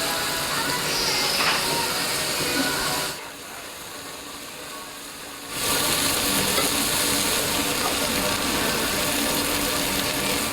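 Chicken cartilage (yagen nankotsu) grilling over a yakiniku grill in a Tokyo restaurant, with a steady hissing sizzle. The sizzle drops out briefly midway, then resumes at full strength.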